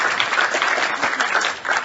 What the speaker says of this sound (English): let's do a hand clap for